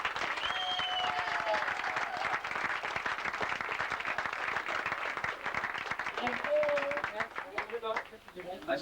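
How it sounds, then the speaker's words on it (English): An audience claps warmly and steadily at a 1988 reception for a marathon runner's family after a charity run from Dublin, sustained applause with some cheering that thins toward the end. "And I think they deserve a good round of applause."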